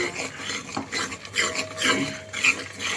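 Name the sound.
stirring food frying in oil in a pan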